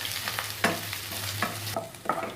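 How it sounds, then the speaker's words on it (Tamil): Sliced onion and green chillies being sautéed in a pan, with a spatula scraping and stirring in a few distinct strokes over a low, steady sizzle, close and moderately loud with no talking. "இப்போ இது கூட 5 பச்சை மிளகா இதையும் நம்ம சேர்த்து நல்லா வதக்கி விட்டுக்கலாம்."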